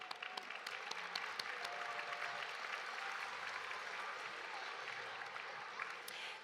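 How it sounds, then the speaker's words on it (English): Applause from an audience at a school mallet percussion festival for performers and student musicians, steady dense clapping heard from a distance, fairly faint, with a few sharper claps standing out. "another round of applause."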